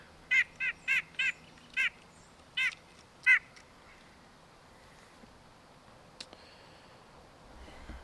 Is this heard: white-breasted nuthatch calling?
yes